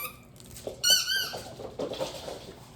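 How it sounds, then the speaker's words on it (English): A squeaky dog toy gives a sharp, high squeak near the middle, followed by fainter squeaks and soft pattering movement, heard close with no talking. "Where's your squeaker in there?"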